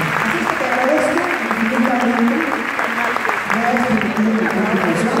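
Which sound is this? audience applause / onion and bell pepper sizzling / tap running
audience applause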